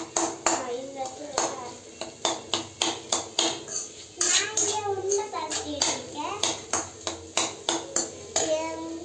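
Boiled potatoes are mashed by hand in a dish, heard as a run of close, rhythmic squishing and tapping knocks against the dish, while someone talks over it.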